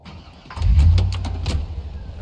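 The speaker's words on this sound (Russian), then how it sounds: "ну зачем ты завелась, когда я вышел из машины?" A car engine in the Project Zomboid video game cranks and catches, giving a low rumbling start that settles into a steady idle, fairly loud and close with no one talking.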